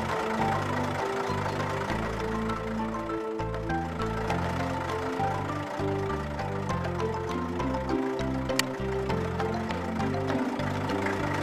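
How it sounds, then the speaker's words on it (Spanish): A cartoon tractor engine chugging with a rhythmic mid-pitched knocking idle, fairly soft and steady, with a faint musical tone beneath and no speech. "El tractor está listo para trabajar."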